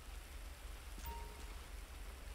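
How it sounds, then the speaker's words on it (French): Steady rain in GTA 5 during a gendarmerie police patrol in the mountains, a constant soft hiss of falling drops that stays even throughout with no voices. "parce qu'il pleut"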